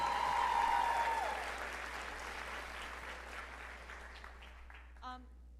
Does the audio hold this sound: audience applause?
yes